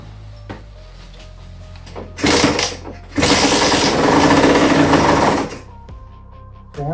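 Small engine of a 2010 Rieju MRT moped with a spark fault, cranked on starting fluid sprayed into the air filter: two loud bursts of rapid buzzing revving, the second longer, between quieter pauses.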